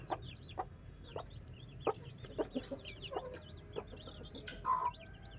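A hen clucks in a cage alongside seven small chicks, giving scattered low clucks over a steady bed of high chick peeps, with a louder cluck near the end and no talking.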